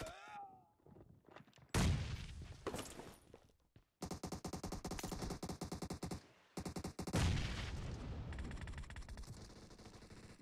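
Rapid video game shooter gunfire in a team deathmatch, with bursts of automatic fire and single shots that keep coming over roughly ten seconds, loud and close, pausing briefly between volleys.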